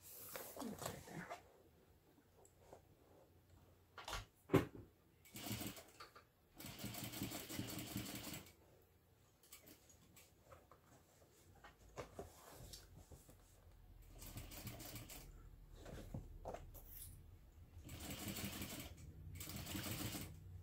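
A home sewing machine stitches a seam in several short bursts separated by quiet pauses, each run a soft, close mechanical whir.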